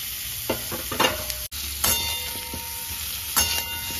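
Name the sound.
jackfruit frying in a pan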